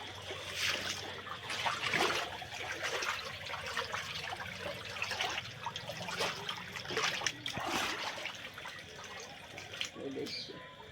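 Floodwater from heavy rain trickling and splashing around a flooded house in Madhepura, Bihar, a faint steady watery wash with scattered splashes and murmured voices in the background.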